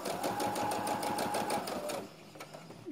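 A sewing machine runs steadily stitching piping along a curved seam on a backless frock, a fast even mechanical rattle that slows and stops near the end.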